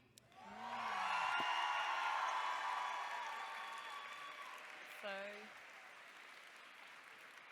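Crowd applause and cheering at a live cosplay contest, swelling up and holding steady for several seconds, with a voice speaking over it and a brief tonal sweep partway through.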